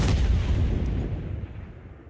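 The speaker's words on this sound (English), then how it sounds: "Small generic all metal explosion." A small, generic all-metal explosion sound effect: one heavy, close boom with a sharp attack that rolls into a low rumble and fades over about two seconds, with no voices.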